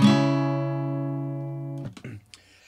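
A single strummed acoustic guitar chord with one muted string, picked across five strings, rings out and slowly decays, then a short burst of scratchy handling noise and a brief voice follow.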